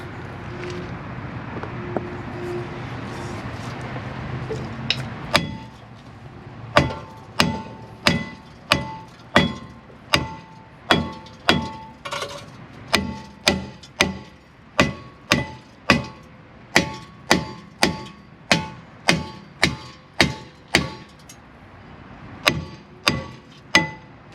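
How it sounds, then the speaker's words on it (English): Sharp metallic hammer blows ring out in a steady, repeated rhythm, dozens of hard strikes knocking off a Volkswagen front brake rotor, close and loud, after a brief quieter stretch. "now we need to get a hammer to knock the rotor to get it off"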